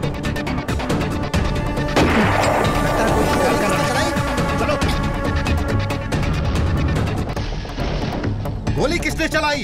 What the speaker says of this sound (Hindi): गोली किसने चलाई?